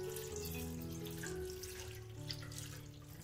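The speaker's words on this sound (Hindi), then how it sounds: "जिसके लिए मैं इसमें डाल दूंगी ये ठंडा पानी।" Cold water pours steadily from a tap over boiled macaroni sitting in a metal strainer, a continuous close splashing rush that stays even throughout.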